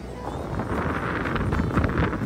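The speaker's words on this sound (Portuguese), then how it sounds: "tá ventando muito aí, ó" Strong wind at a crowded beach buffets the microphone, a constant low roaring rush that lasts the whole short stretch with no break.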